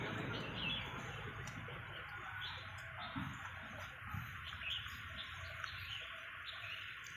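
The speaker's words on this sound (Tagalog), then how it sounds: "Uy, ang daming ibon dito mga kaibigan." Many birds chirp and tweet together in a steady chorus, with insects buzzing faintly underneath.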